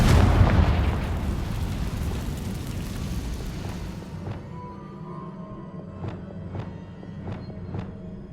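A Confringo blasting spell in Hogwarts Legacy erupts as a loud, close boom that rolls into a long fading rumble, followed by a few faint, sharp ticks as it settles.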